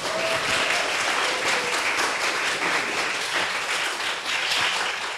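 A studio audience at a public broadcast of a Korean current-affairs show claps steadily for several seconds, a dense, even round of applause at moderate volume with no voices over it.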